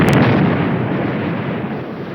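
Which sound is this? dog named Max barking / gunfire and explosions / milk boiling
gunfire and explosions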